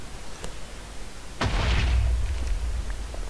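A TNT block detonates in the Minecraft video game, a single loud blast with a sharp onset followed by a sustained rumbling roar that lingers and slowly fades, with no voices.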